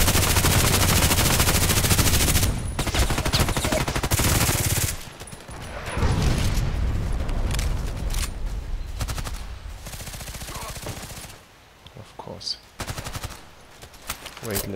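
Sustained automatic gunfire in the online shooter Contract Wars, loud and dense bursts rattling almost continuously, then thinning into scattered shots and pauses with some quieter stretches.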